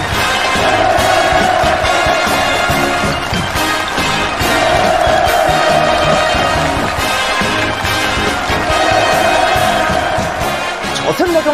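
A large crowd at a Pyongyang gathering cheers enthusiastically, a loud continuous roar of many voices swelling in repeated waves, with a background voice partly audible.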